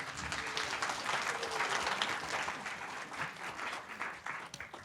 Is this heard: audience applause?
yes